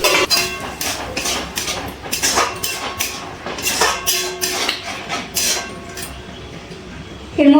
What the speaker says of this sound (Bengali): এবার এর মধ্যে দিয়ে দিচ্ছি ডাল সিদ্ধ আর পালং শাক সিদ্ধ